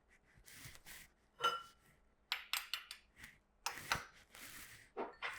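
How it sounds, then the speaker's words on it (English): Spiced Chex mix is stirred in a bowl while still hot, dry cereal pieces rattling and clinking against the sides in uneven bursts of scraping, fairly close and moderately quiet. "I'm going to give that a good mix."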